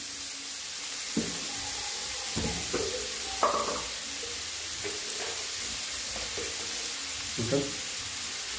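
Onion frying in a pan until reddish, for a smoky roasted potato and brinjal bharit, with a soft sizzle and several clattering stirs, close and without talk.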